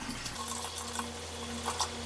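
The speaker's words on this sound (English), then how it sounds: "So first I put in my 2 gallons of water, hot water" Hot water, about two gallons, pours into a container for mixing sugar syrup for beekeeping, making a soft steady rush and trickle, fairly faint and continuous with no talk.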